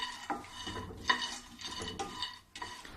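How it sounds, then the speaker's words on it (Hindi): Peanuts, almonds and cashews are stirred while roasting in a pan, giving quiet, rhythmic scraping strokes with light rattling of nuts against metal, repeating about once every half second to second. "ये दोनों मैं मूंगफली में ही डाल देती हूँ। ये भी थोड़ा भुन जाएगी तो स्वाद आएगी।"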